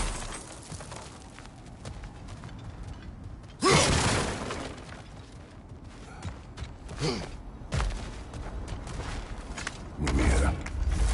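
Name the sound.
smashing and breaking objects in video game God of War Ragnarök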